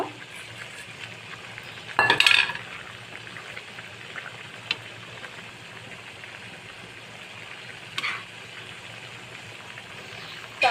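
Pabda fish going into a bubbling curry of ridge gourd and potato, a soft steady simmer and sizzle broken by a sharp burst of splashing sizzle, then a quieter second flare later, close by with no talking.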